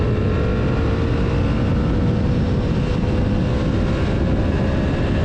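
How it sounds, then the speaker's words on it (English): Honda VFR750F 1993 V4 motorcycle engine held at high revs above 6000 rpm under steady wind and road roar, a continuous loud drone with no talking. "that V4 sound. Right when it goes up above 6 grand"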